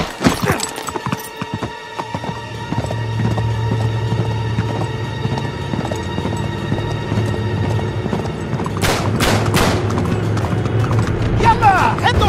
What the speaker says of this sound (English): Jump the horse! Jump the horse!